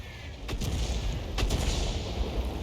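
A tank gun fires in a World of Tanks match, with two sharp, loud blasts about a second apart over a steady background rumble of battle.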